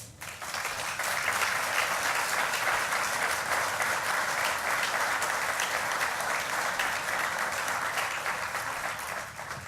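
Sustained, dense applause from a crowd at a memorial plaza ceremony in Santurtzi, a steady wash of clapping that holds evenly for the full stretch before easing slightly at the end.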